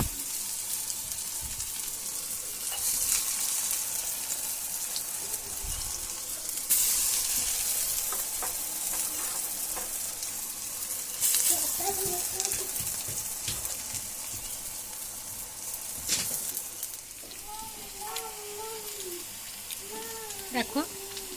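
Taro stolon fritters (lotir bora) frying in a wok give a continuous bubbling sizzle with scraping stirs, while a person speaks over it and birds chirp faintly in the background.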